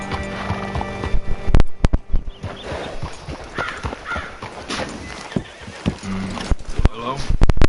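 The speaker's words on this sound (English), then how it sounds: "Hitch your horse up here." Horse neighs and hoof clip-clops from the Western video game Red Dead Redemption, with whinnies and hoofbeats rising and falling through a busy in-game scene, occasional sharp thuds, and background talk throughout.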